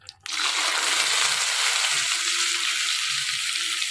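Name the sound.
frying in oil in a pan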